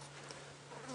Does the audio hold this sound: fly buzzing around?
yes